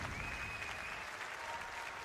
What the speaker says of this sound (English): I think it does deserve a clap